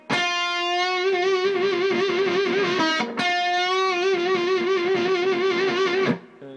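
A distorted electric guitar holds one sustained note with wavering vibrato played with the ring finger, briefly broken by a pick attack, then rings on before cutting off.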